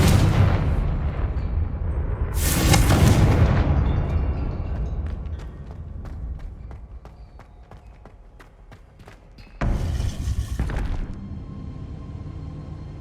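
Confringo fire-blast spell in the Hogwarts Legacy game: a loud, close explosive burst with a rumbling tail, quieter clattering and movement, then a second heavy blast near the end.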